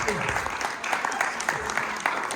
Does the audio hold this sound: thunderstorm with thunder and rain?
no